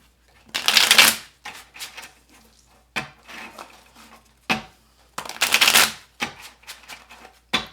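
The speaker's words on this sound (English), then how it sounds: "we're going to go into the gold foil. All right, let's pull some tarot." A deck of gold-foil tarot cards being shuffled close up, in several loud riffling bursts separated by short pauses and softer taps as the cards are squared.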